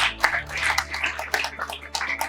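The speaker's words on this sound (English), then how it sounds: "Please continue clapping." Audience at a university anniversary celebration keeps applauding, steady crowded clapping from many hands filling the hall, moderately loud and continuous with no clear talk over it.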